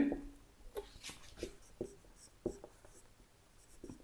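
A pen scratches across paper while working a geometry problem about spheres, with irregular short strokes and taps, quiet and close, no talking.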